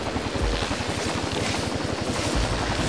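Helicopter in the video game Infamous 2, a loud, steady rotor chop pulsing rapidly and evenly throughout, with dense noisy texture on top.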